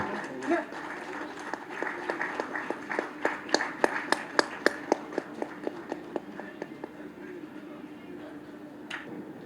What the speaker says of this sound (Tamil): நல்ல கைத்தட்டல் கொடுத்துடலாம்.